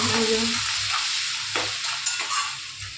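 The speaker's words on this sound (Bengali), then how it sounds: "এবার এইগুলো ভাজবে।" Food frying in a pan gives a steady, loud hiss close by, with a few scraping stir strokes and light crackles over three seconds, no one speaking.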